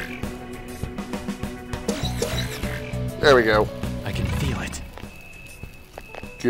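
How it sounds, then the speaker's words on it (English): A comical, warbling pig oink from the video game Persona 5 Royal sounds twice amid background game music and effects, with a voice talking. "It's supposed to be like a pig oink, but it sounds funny."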